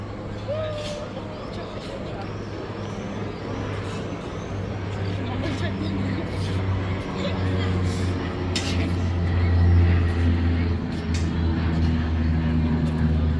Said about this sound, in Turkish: uçak geçiyor.